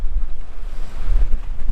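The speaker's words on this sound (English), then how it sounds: "Gale force winds here." Gale force wind buffets a lakeshore where people are jigging for walleye, a loud gusty rumble pressing on the microphone and swelling in surges over a couple of seconds, with no talk.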